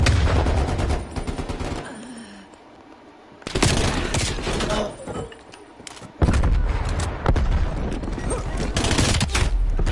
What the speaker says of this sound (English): Bro, I'm getting shot in the back.